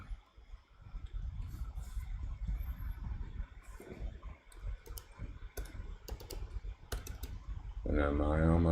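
Typing on a MacBook keyboard, a run of crisp, uneven key clicks with brief pauses under a steady room background, ending in a louder tonal burst near the close.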